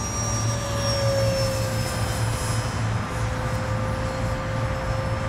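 An FF-Viper model jet flies overhead, its turbine a loud steady whine with sustained high tones over a broad rushing roar, continuous and without talk.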